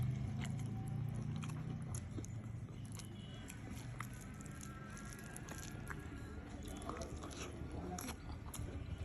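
Someone eating fish curry cooked with tomato alongside lentil fritters, with soft close chewing and wet mouth sounds running steadily under low background noise and faint murmuring.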